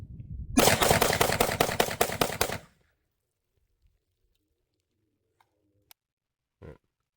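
A firearm fitted with a muzzle brake fires a rapid burst of shots lasting about two seconds, loud and close, then stops, leaving near silence with a few faint clicks and a brief soft thump.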